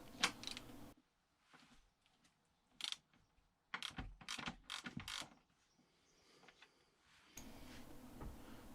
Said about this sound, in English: the first thing you're going to need to do is loosen off your pinch bolt, which is a 17mm socket